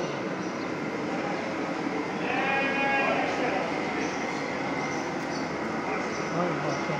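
Sheep bleat amid a busy outdoor small-livestock market in Çorum, a few clear calls rising over constant crowd chatter and background din.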